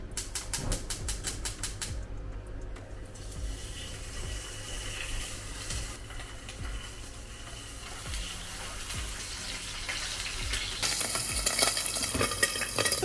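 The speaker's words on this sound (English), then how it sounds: "I'm going to be cooking the Spam and then the eggs for the Spam and egg one" Spam slices fry in a pan with a steady close sizzle, a few scrapes and knocks of a utensil, and a burst of rapid ticking clicks at the start.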